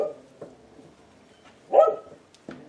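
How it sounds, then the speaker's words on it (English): A dog indoors gives a single short, loud bark, with a few faint yelps and whimpers before and after in an otherwise quiet room. "The dog is not in a cooperative mood, is he?"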